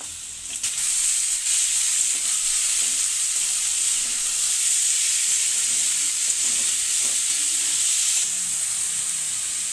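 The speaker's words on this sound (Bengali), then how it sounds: "এবারে মাংসটা দিয়ে দেবো।" Mutton pieces sizzle and fry loudly in a pan with browned potato and onion, a steady close hiss with occasional stirring scrapes, no voices.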